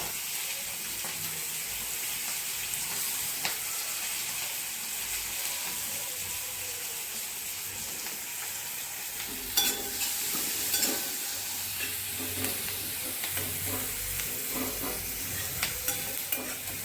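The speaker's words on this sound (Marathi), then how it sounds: "आता आपण 1 वाटी जो कांदा घेतलेला आहे तो ह्याच्यात परतून घेऊया" Chopped onion sautés in oil in a pan, a continuous sizzle with stirring scrapes that grow busier and clatter more in the second half, close and steady, with no talking.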